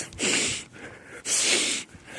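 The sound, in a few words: long sniff imitated by voice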